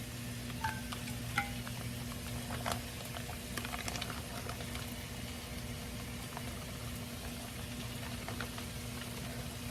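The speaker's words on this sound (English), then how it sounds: "I'm just going to pour the remnants of the bag in here and let it cook down." Steak marinade bubbling and sizzling in a hot frying pan, a steady soft crackle with occasional sharper pops, close by and without talk.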